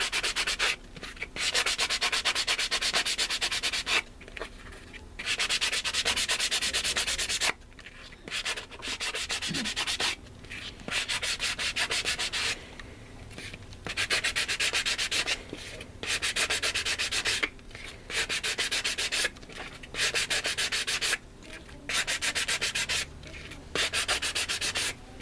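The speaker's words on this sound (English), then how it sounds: "we got to get a good scuff on this all the way around" Hand scuffing around the mounting lip of a JL Audio 12W6 or 10W6 subwoofer during a recone, heard as loud, steady bursts of abrasive rubbing in repeated strokes with short pauses between them, no talking.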